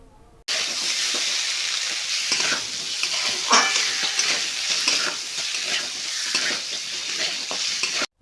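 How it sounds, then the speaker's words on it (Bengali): Potatoes and eggplant frying hard with turmeric and other spices for a Bengali fish curry, a loud, steady sizzle that starts abruptly, with scraping stirs moving through the hiss. "আলু এবং বেগুনগুলোকে মশলার সাথে ভালো করে ভাজতে হবে"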